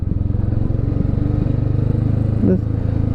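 A motorcycle engine thrums in a fast, even low-gear pulse close by, engine braking in first gear downhill on a road in Nepal, steady throughout with a brief voice near the end.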